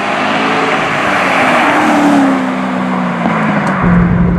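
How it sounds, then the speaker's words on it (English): Chevrolet Corvette ZR1 under full-throttle acceleration, a loud, steady engine roar with a rising tonal whine that fills the whole clip, heard from inside the car. "I was on it for about 2 seconds of full throttle there"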